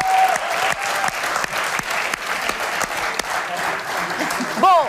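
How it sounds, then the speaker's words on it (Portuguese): A studio audience breaks into sustained applause for two debaters on a Portuguese television panel show, dense and steady clapping that stays loud throughout, with a brief voice rising at the very end. "uma salva de palmas para Joana Amaral Dias e Rodrigo Moita de Deus"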